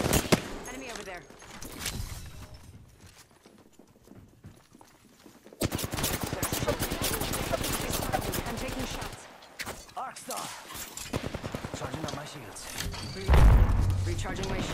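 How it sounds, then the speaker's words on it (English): Rapid bursts of video game gunfire crackle in loud, dense stretches separated by quieter gaps, with a player's voice talking over parts of the action. "Making contact with enemy. Taking fire."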